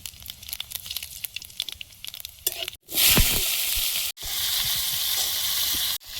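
A loud sizzle erupts as five-spice seeds hit hot oil in a wok, a steady hissing crackle that continues, briefly interrupted, after some quieter kitchen clatter.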